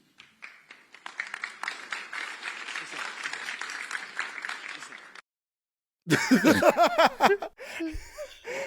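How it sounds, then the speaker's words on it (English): Scattered, hesitant clapping from an audience after a question exchange at a talk, thin applause lasting about five seconds, then silence before a person speaks. "Oh, the awkward clapping."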